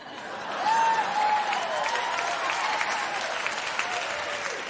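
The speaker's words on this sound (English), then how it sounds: "I don't see a lot of men clapping here for that one." Sustained audience applause and cheering fills a standup comedy show, steady and full throughout with no break, a crowd clapping together from a distance.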